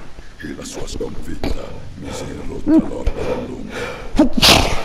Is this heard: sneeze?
yes